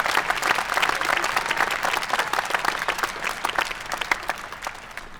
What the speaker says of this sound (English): Could we have another round of applause for our student speakers, Rod, Nick, Claire, Bailey, and Allie?